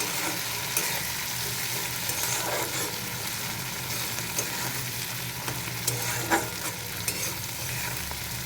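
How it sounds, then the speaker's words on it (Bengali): Vegetables stir-fry with soy sauce in a pan, giving a continuous close sizzle broken by repeated scraping and tapping from the stirring utensil. "তো একটু নেড়ে নিয়ে ডিমটা দিয়ে দেবো"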